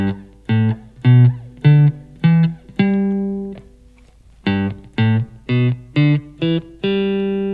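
Electric guitar picking single notes of a major pentatonic scale one at a time, climbing then continuing after a pause, clean and close, ending on a sustained note.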